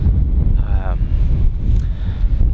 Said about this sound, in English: because it's so freaking windy